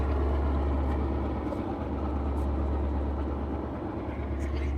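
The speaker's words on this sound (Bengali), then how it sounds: "এটা লঞ্চের ইঞ্জিনের যে আপনার সাইলেন্সার সেই সাইলেন্সারের ধোয়াটা এই দিকটা দিয়ে বের হয়ে যাচ্ছে আর প্রচুর শব্দ" A river passenger launch travelling from Dhaka to Chandpur roars with a steady, loud, low engine drone as exhaust pours through its silencer, an unbroken rumble throughout.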